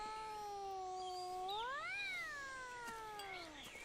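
A cat meows in a long drawn-out call that rises and then falls, close and clear, with a faint soft background and no voices.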